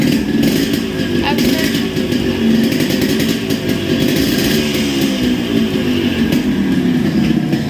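A Yamaha RX100 two-stroke motorcycle engine runs loud and close, revving with a rough, buzzing throttle blip under steady idle-like churn throughout.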